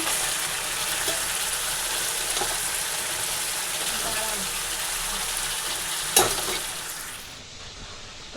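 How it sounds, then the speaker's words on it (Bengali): Green chili and black cumin crackle in hot oil as a tempering for a home-cooked Bengali dish, a continuous bright sizzle with a sharp clink near the end before it fades. "কাঁচা লঙ্কা ফোড়নে দিয়েছি আর কচু সেদ্ধের মধ্যে লঙ্কা দিয়ে দিয়েছিলাম"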